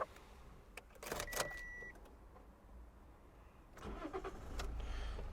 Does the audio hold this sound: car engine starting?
yes